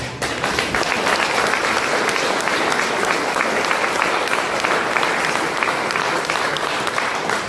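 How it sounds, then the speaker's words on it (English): A town hall audience applauds veterans and serving members, a sustained, even roar of crowd clapping at strong volume for several seconds, with a few voices faintly mixed in. "Can we give these folks a round of applause?"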